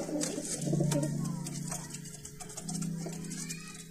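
High-flyer pigeons cooing close by in a loft, soft throaty coos repeating in two drawn-out phrases with faint ticking and rustling around them.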